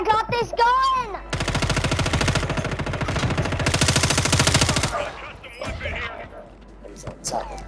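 Sustained rapid automatic gunfire from a first-person shooter video game, loud and dense for several seconds, with a voice talking before and after the burst.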